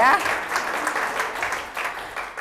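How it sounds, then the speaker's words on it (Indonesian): Enthusiastic clapping from a church congregation welcoming members, beginning loud and continuing in uneven bursts that gradually thin out, with a voice briefly audible at the start. "Kita kasih tepuk tangan yang semangat."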